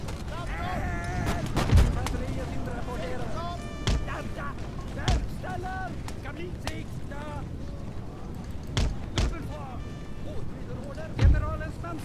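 Musket volleys in Empire: Total War land as scattered, muffled booms over a busy battle din, with ship and wind sounds in the background and someone talking over it.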